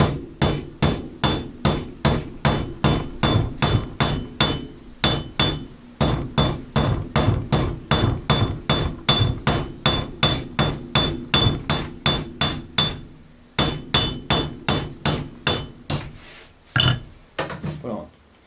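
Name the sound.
hammer striking excess metal on iron base, drum making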